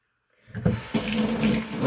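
A razor is rinsed under a running tap at a sink: after a moment of silence the water starts with a splash and then runs as a steady close rushing hiss.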